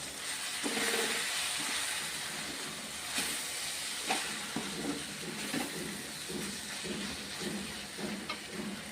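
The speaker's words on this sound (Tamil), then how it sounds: "இது இப்படி எண்ணெயிலே நல்லா வதக்கி விட்டுக்கணும்." Chili powder sizzles and hisses in hot oil, a steady frying crackle with occasional sharper pops and stirring scrapes.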